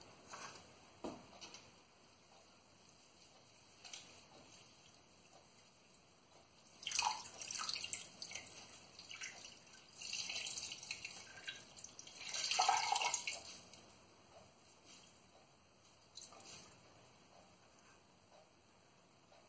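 Water drips and trickles from dyed wool yarn lifted and squeezed over a pot during rinsing, quiet scattered drops with a few louder splashy bursts, no talking.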